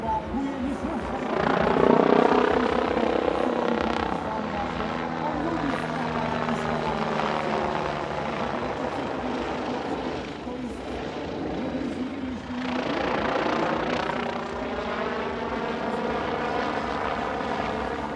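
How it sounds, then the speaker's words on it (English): A fully aerobatic helicopter at an airshow in Leszno roars overhead with loud, throbbing rotor chop that swells and fades as it maneuvers, sustained throughout. "This is one of a very small number of helicopters that is fully aerobatic."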